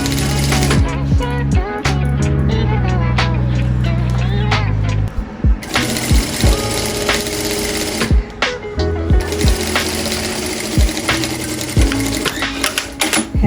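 A sewing machine stitches fabric in a loud, rapid mechanical whirr, running in steady stretches broken by short stops and clicks, close up.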